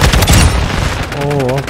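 In the Modern Warfare 2 video game, a TAQ-56 rifle fires a rapid, loud burst of close shots in quick succession, with a voice speaking over the tail of the burst.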